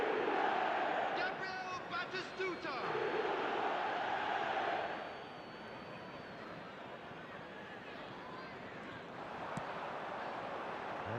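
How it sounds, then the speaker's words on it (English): Stadium crowd in the football video game eFootball, a loud roaring swell of cheering that fades after a few seconds into a steadier murmur, with brief commentary over it. "the crowd are reacting to that now"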